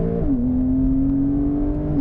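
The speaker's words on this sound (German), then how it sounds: "haben wir hier die Möglichkeit der Launch Control. Die wir jetzt mal kurz machen" A 2019 Porsche 911 Carrera (992) launching hard under launch control, its engine note climbing through a gear change into a steady, loud, close drone.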